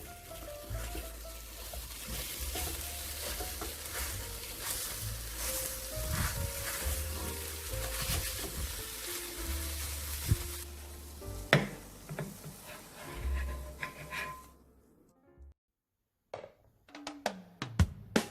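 Bacon, mushroom and scrambled egg sizzling steadily in a wok, broken up with a wok spatula; dense frying hiss with scraping strokes, dropping to near silence near the end before a few sharp clanks.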